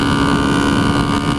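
A 1976 Honda CB125S motorcycle cruising with no windscreen, with a loud, steady roar of engine drone and heavy wind buffeting the microphone throughout.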